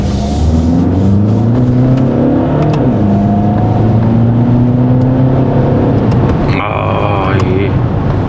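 A Volkswagen Arteon's 2-litre diesel engine in sport mode climbs steadily in revs and then eases off, its smooth rising drone sitting under continuous talking inside the car.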